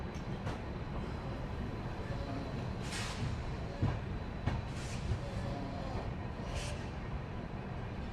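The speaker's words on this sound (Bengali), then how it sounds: "এই ছেড়ে দিল আমাদের ট্রেন ব্যান্ডেল জংশন" Train pulling out of Bandel Junction, heard from aboard as a steady low rumble of the moving carriages with occasional clanks and brief hissing bursts, no talking over it.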